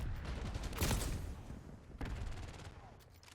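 Sniper gunfire in a combat setting: a sharp loud shot near the start, then a second burst of cracks around the two-second mark over a noisy background.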